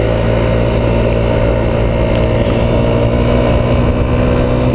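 Rex RS 700 scooter engine held under throttle while stationary, a loud steady drone with constant hum and no rise in pitch, continuous and close for the whole stretch.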